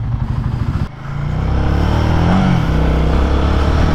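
Royal Enfield Guerrilla 450 motorcycle pulling away: a brief idle thump, then a loud engine note that climbs and holds as the bike accelerates hard, close to the rider.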